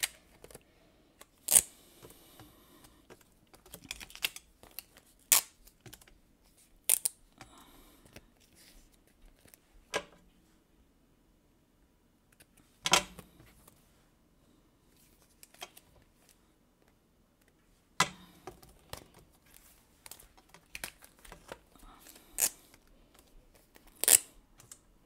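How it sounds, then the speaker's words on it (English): Scissors cut a plastic photocard sleeve, making sharp, scattered snips and crisp clicks spread across a quiet background, close and fairly faint. "You can actually take your scissors and then just cut it."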